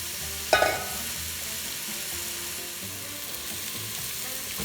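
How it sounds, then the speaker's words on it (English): Acorn squash pieces sautéing with spices in a covered pan give a steady, even sizzle throughout, with one sharp metallic clink near the start and no talking. "We've been sauteing this squash covered"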